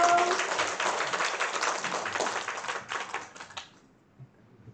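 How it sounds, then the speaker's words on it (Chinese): An audience applauds to welcome a speaker at a sutra reading-group gathering: dense, even clapping for a few seconds that thins out and fades to near silence. "我们热烈的掌声欢迎罗师兄"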